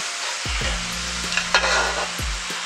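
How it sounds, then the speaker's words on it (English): Pork chops and their juices go back into a hot skillet, giving a steady sizzle with a couple of low scraping drags of the pan, heard up close. "I'm gonna take my pork chops, we're gonna add those right back to the skillet."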